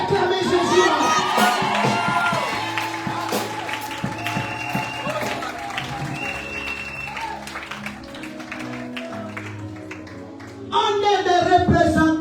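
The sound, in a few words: church congregation cheering and acclaiming Jesus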